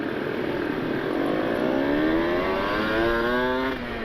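A two-stroke motorcycle engine brakes, its tone sweeping through a continuous whining drone that stays loud and close throughout, with no talk.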